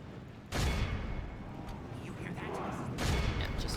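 Units firing in the battle for Imladris in a fantasy strategy video game, two heavy booming volleys over a rumbling battle din, with someone talking over it.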